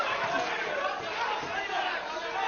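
Crowd at an amateur boxing final: a steady, muffled hubbub of many voices murmuring and chattering in an arena, fairly faint and continuous, with no single voice standing out.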